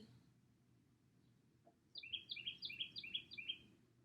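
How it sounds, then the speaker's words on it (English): Several birds chirp outdoors in a quick run of bright, repeated tweets that begin after a quiet stretch of low background rumble, fairly close and clear with no talking. "Birds. I don't like birds."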